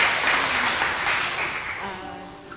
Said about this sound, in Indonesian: Berikan tepuk tangan dulu bagi Tuhan Yesus.